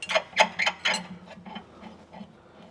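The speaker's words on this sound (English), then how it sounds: "So now it's a case of locking all the locking bolts off, which we're now doing." Ratcheting clicks come from locking bolts being loosened on a Subaru's rear suspension, heard as a quick close series of sharp mechanical ticks that fade into lighter, sparser clicks.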